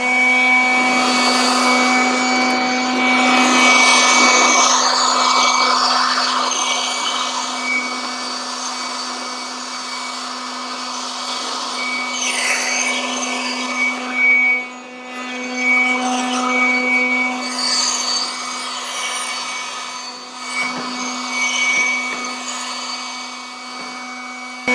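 Air blown hard through a newly bought grill to clear out debris: a loud, steady rushing roar with a constant motor hum beneath it. The roar swells and dips slightly as the nozzle moves, with no talking.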